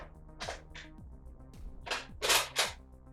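Clicks and clacks from loading and priming an X-Shot Regenerator foam dart blaster, a handful of sharp close plastic snaps spaced irregularly, the loudest pair near the end, with no talking.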